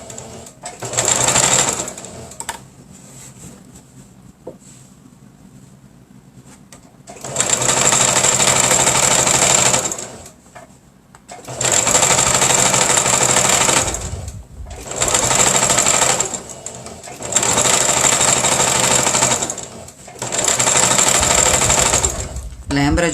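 Sewing machine stitching the seams of a fabric eco bag wallet, running in five loud bursts of steady whirring separated by short pauses, with quiet talk in the gaps.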